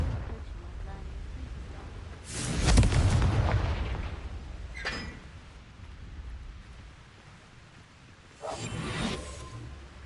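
A spell blast in Hogwarts Legacy goes off with a loud whooshing burst and a rumbling low boom at about three seconds. A sharp zap follows, then a second fiery burst near the end, over a steady game-world ambience.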